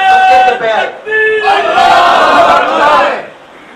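A large crowd chants slogans in unison at a religious gathering, loud and close, with a few rising cries and a swelling roar before it fades.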